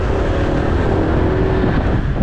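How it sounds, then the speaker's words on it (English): A motorbike rides through quiet streets with a loud, continuous engine drone mixed with heavy wind rush close to the microphone, steady throughout with no talk. "I'll jump on the bike, go for a lap, see what's going on."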